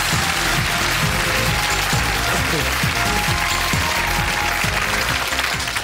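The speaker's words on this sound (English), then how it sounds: "Let's give them a nice round of applause." Loud, dense studio audience applause on a TV game show, a continuous roar of clapping with a voice talking through it.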